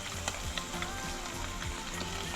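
Onions or vegetables frying in a pan with saltfish, giving a steady close sizzle with small crackles and pops and no talk over it.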